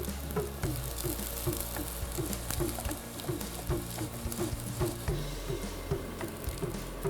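A millet snack frying in a pan as it cooks on its second side, giving a steady soft crackle and sizzle with small pops, close and moderately quiet, with no talking.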